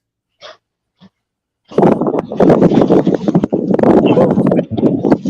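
Strong wind roars and buffets a nearby microphone continuously after a couple of faint brief sounds, loud and gusty with rumbling surges, out on Cherokee Lake in Tennessee during a pontoon fishing trip.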